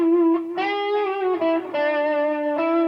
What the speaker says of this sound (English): So if I start off with green, it would be just a digital delay.